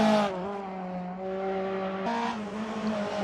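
A rally car runs along a straight on stage 7 of the Rzeszowski Rally, Eastern European Rally Championship round 4: a steady droning engine note held at a distance, dipping and then climbing again partway through, with no talking.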